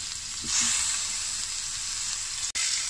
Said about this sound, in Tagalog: Ipapry ko yan until golden brown.